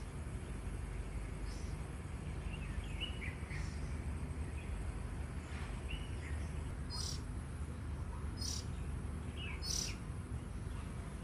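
Doves and other birds call outdoors among trees on a quiet afternoon, giving short, scattered chirps and tweets at moderate distance above a constant low ambient rumble and faint insect noise.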